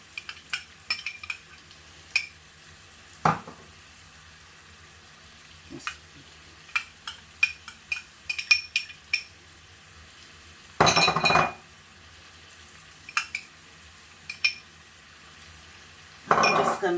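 Peppers, garlic and ginger are stirred in a frying pan, with scattered utensil clinks and taps against the pan and a few longer scraping, sizzling bursts, close and fairly loud, without talk.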